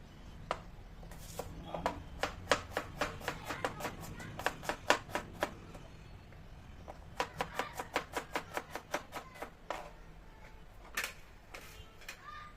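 A knife slices chili peppers on a cutting board with a quick run of crisp, evenly spaced cuts, a short pause, then another fast series of sharp taps, close and fairly quiet.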